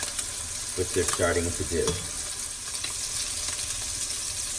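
Sage leaves fry and crisp in a hot pan, giving a steady close sizzle and crackle throughout, with a brief stretch of speech over it partway in.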